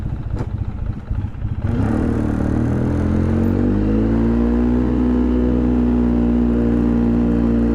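A truck engine idles steadily and close by while still cold, a low rumbling drone with a brief revving rise near the start, with no talking.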